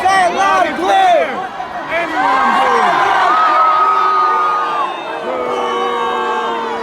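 A music festival crowd cheers, whoops and yells in overlapping bursts, loud and close for about seven seconds, rising to a sustained roar in the middle before easing slightly.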